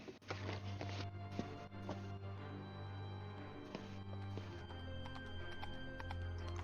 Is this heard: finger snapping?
no